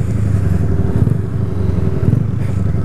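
A 2008 Honda CG 125 Fan motorcycle engine idles steadily in neutral up close, a low, even rumble with a faint rhythmic chug throughout and no speech.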